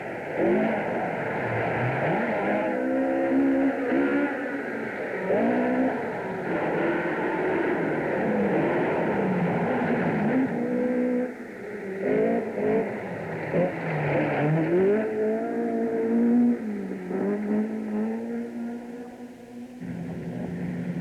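Rally cars at the 1980 WRC Motogard Rally New Zealand, crossing the island from Greymouth to Christchurch; engines rev and whine with shifting pitch, loud and steady throughout the run.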